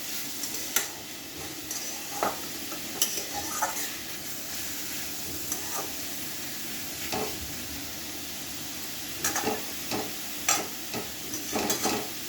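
Snake gourd frying and being stirred in a pan, a steady soft sizzle running throughout with repeated clinks and scrapes of the utensil against the pan, close and moderately quiet, with no talking.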